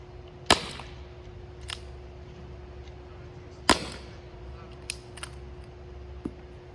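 A Nerf Fortnite pump blaster fires, giving two sharp close snaps several seconds apart, with a few fainter clicks and knocks of handling in between.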